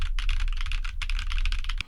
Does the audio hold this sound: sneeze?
no